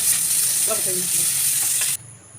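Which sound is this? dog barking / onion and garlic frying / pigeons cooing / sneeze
onion and garlic frying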